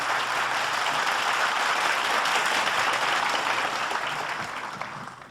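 A mushaira audience at a poetry gathering claps steadily in a dense, sustained wash of applause that fades slightly toward the end.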